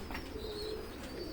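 A kept pigeon, the kind raised by hobbyist pigeon keepers, gives a soft, low, drawn-out coo, moderately near, against a faint background hum.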